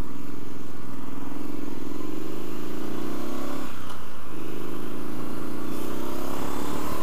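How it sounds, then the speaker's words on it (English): Triumph Street Scrambler motorcycle engine revving hard and steadily, a loud close-up drone that dips briefly mid-way before climbing again, with no talking. "This engine wants to be run."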